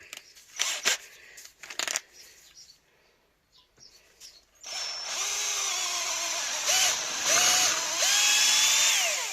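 A few clunks and handling taps, then a power drill with a 3.5mm bit whines continuously up close on a Suzuki FZ50 engine, its pitch rising and dipping as it bites into material.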